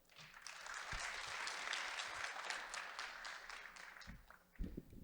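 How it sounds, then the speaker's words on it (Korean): Audience applause welcoming a university professor to the podium at a summer seminar of university presidents, a steady wash of many hands clapping that swells and fades, with a few louder thumps near the end. "박수로 맞이해 주시기 바랍니다"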